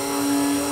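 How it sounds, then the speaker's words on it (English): Small electric grinder grinding chia seeds, a steady high-pitched motor whine with a strong constant hum, brief and close, with no talking. "So we're gonna pour that into my little grinder here, and I'm gonna grind away."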